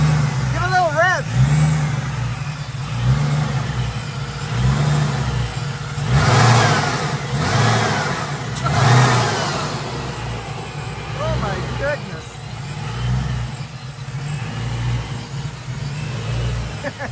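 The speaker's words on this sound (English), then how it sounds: "Give a little rev!" A car engine fitted with a newly installed Vortech supercharger idles and revs in several bursts, with people talking loudly and excitedly over it nearby.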